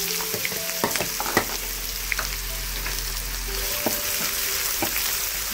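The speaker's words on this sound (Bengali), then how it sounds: "এটা গরম হয়ে গেছে, এখন এটাতে দিয়ে দিচ্ছি 1 কাপ পেঁয়াজ কুচি" Chopped onion sizzles steadily in hot mustard oil for a beef kala bhuna, a dense continuous frying hiss with scattered stirring clicks and taps, close and fairly loud throughout.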